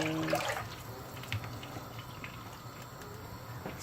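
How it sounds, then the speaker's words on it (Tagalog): Water for boiling rice for chicken biryani in a home kitchen, first a brief splashing pour into a pot, then a soft continuous watery hiss and trickle with light clinks. "6 cups na tubig para sa boiling rice."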